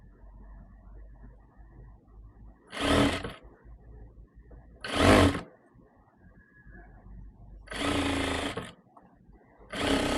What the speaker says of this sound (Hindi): ऐसे ही हम उस तरफ सिलाई लगा के फिर डबल सिलाई लगा देंगे।